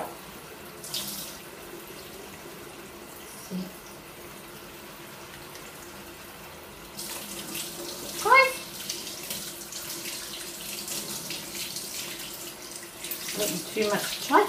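A tap running water into a sink while paintbrushes are rinsed, a steady hiss that turns louder and fuller partway through, with splashes and handling noises near the end.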